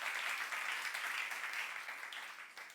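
A church congregation at a youth-group sermon applauds in a steady, moderately quiet wash of clapping that fades slightly toward the end, with no talk over it.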